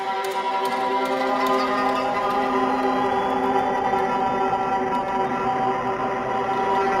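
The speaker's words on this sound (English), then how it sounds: "I got some creepy string samples set up, and I'm gonna run them through the Mood Mark II to make them sound like this." Creepy string samples run through a Mood Mark II pedal make a dense, sustained, wavering drone of layered tones, steady in loudness and uninterrupted throughout.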